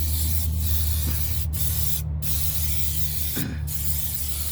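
Primer spray paint hissing from an aerosol can in light coats over a 3/16-inch welded frame patch on a 1998 Ford Ranger 4x4, a steady close spray with a few short breaks, over a low background hum.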